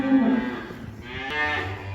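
Cows on a dairy farm mooing near a gate: two drawn-out, low moos follow one another, each swelling and fading, with no talk.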